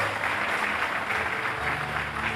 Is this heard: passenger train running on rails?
no